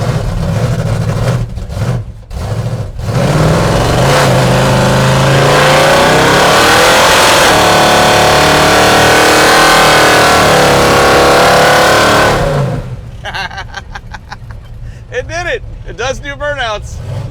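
A car being driven hard on a road to test its tires and traction control, engine roaring loudly with rising revs for about ten seconds before easing off, with people talking underneath and afterward.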